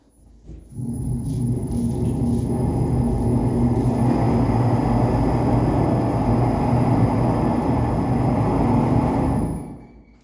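A lathe turning a teapot spout starts up and settles into a steady, loud, low motor drone for about nine seconds, then winds down and stops.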